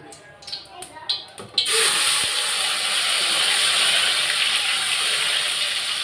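Ginger garlic paste hits hot oil for a Tamil home lunch and sizzles with a loud, steady hiss that starts abruptly after a few soft clatters and carries on close up.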